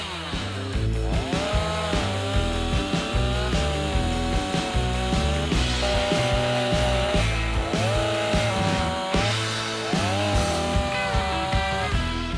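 A STIHL MS 182 chainsaw with a 40 cm Light 04 guide bar and 61 PS3 Pro chain cuts through wood, its engine rising and falling in pitch several times, heard steadily and loudly beneath prominent background music.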